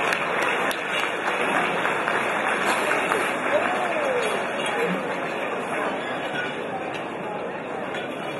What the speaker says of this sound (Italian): Un grande applauso, signori e signori, per questi bravissimi giovani.